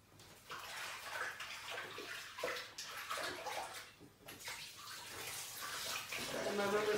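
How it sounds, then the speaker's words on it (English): Tap water runs into a sink while someone washes their hands in a home kitchen, a steady close splashing and rushing that shifts as the hands move through the stream, fairly quiet throughout. "Wash my hands."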